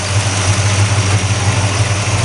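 A Pontiac Catalina 2+2 V8 with an HO exhaust manifold idles after a cold start, giving a loud, steady, deep rumble with an even low throb and no speech.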